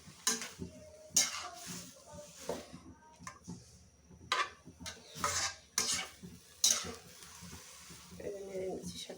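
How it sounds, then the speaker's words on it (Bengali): Spinach being stirred in a wok for a stir fry, with intermittent scraping and clinking strokes of a utensil against the pan at an irregular pace, close and fairly quiet. "নেড়ে নিচ্ছি শাকটাকে।"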